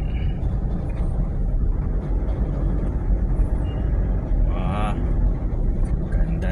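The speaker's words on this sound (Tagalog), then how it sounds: "Daming sasakyan guys." Busy road traffic on EDSA in Mandaluyong, Manila, near the MRT Ortega station, forms a steady low rumble of passing cars, with voices talking over it.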